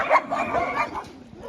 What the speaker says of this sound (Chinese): 狗狗开心的很，热闹的、开心的，嗡嗡的叫